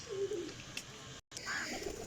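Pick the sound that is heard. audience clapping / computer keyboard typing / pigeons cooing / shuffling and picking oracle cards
pigeons cooing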